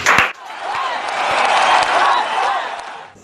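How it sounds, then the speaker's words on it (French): An audience applauds a child's parents at a televised French show, a broad wash of clapping with some crowd noise that rises after a brief opening burst and carries steadily for a few seconds. "On peut applaudir ses parents quand même."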